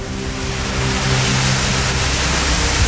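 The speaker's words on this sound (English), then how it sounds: "So we found the waterfall." A waterfall in Australian bushland rushes in a steady, broadband roar of falling water, loud and continuous throughout with no voices.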